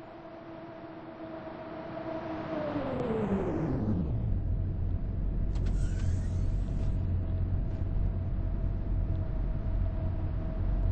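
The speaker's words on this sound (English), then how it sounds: "The train is approaching." A train rumbles in, a whining tone sliding steadily down in pitch as it slows, then a low, steady rumble carries on.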